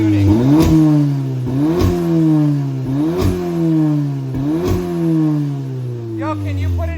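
An Audi S3 fitted with an AWE exhaust revs four times in quick blips, each rising to a rasp and falling back to a throaty idle, loud and close, with faint voices near the end.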